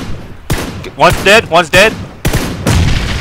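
Gunfire in PlayerUnknown's Battlegrounds sounds as sharp bursts amid a tense firefight, with loud overlapping voices shouting over the shots.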